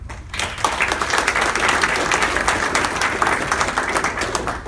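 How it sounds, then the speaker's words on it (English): Dense, energetic crowd applause at a USA Boxing National Junior Olympics event in West Virginia, many hands clapping at once in a continuous wash for several seconds over a low hum. "We owe a nice round of applause to Gary Tony."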